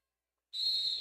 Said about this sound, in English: The whistle says timeout's over.